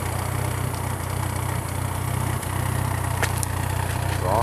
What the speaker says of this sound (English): Exhaust.